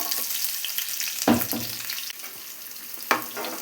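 Cumin and garlic frying in hot oil in a pan, a steady close sizzle broken by a few sharper bursts as the pan is stirred, with no speech.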